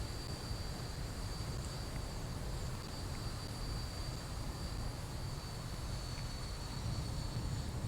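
A Boeing 737-800 in the X-Plane 11 flight simulator sets down on landing, giving a steady, loud broadband roar of jet engine and airflow that holds evenly throughout with no speech.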